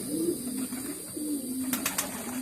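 Pouter pigeons cooing at a pigeon show, low rolling coos repeating close by in two drawn-out phrases, with a few brief sharper sounds near the end.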